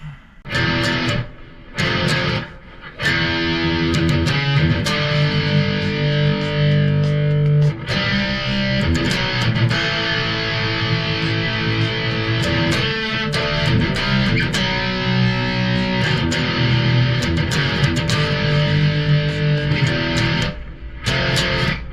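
Distorted electric guitar plays a loud, driving chorus riff, with palm-muted chugs and sustained chords, a few short breaks early on, then continuous.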